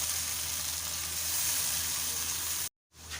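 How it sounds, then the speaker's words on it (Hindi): Onions sizzle and fry steadily in a pan for a chicken korma, a continuous loud crackle that cuts out abruptly near the end before a faint return. "अब मैं इन्हें हल्का सा गोल्डन ब्राउन कलर दूंगी प्याज को, बहुत ज़्यादा कुक नहीं करना।"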